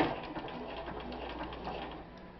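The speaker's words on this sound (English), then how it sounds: "So it should stitch 1 snowflake here." A Bernina 1130 sewing machine stitches a single decorative snowflake pattern, a soft rapid mechanical patter at close range, steady for a couple of seconds and slightly fading.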